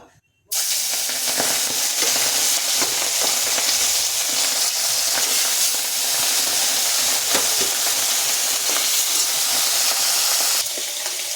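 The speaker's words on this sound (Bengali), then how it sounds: "কড়াইতে আমার তেল গরম হয়ে গেছে এবার আমি মাছগুলো দিয়ে দেবো" Katla fish pieces frying in hot oil in a wok, a loud steady crackling sizzle that starts abruptly and keeps up without pause, with faint scattered pops and no talking.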